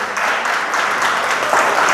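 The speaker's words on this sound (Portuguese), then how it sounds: "Aplauso a você." Steady applause from a church congregation fills the space, a dense, continuous wash of many hands clapping at fairly close range without letting up.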